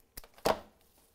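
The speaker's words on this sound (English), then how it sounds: "I'm sorry about the noise from the scissors." Two sharp snips of scissors cutting flower stems during a floral arrangement, close and distinct, the second louder, with quiet pauses around them.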